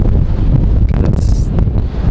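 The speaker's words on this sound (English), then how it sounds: "it's unusually windy." Strong wind buffeting a microphone outdoors in a raised-bed vegetable garden, a steady low rumbling roar with rustling that swells briefly in gusts over about two seconds.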